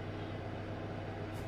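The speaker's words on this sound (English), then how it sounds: "you might hear a rumble in the background, that's just the oven" Steady low rumble from an oven heating to 180 degrees while peach crumble is being made, a constant faint drone with no clear changes over a moment and no talking.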